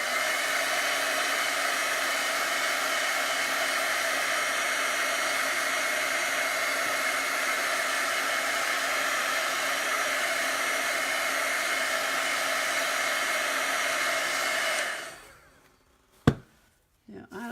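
A hair dryer blows on chalk paste on a craft sign, giving a loud, steady whirring hum for about fifteen seconds that then cuts off, followed by a sharp knock and quiet handling.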